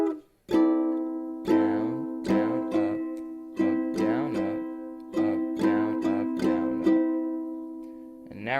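A ukulele strums a down-down-up pattern for the One Piece opening: rhythmic bright chord strums repeating steadily, close and clear, with no talking.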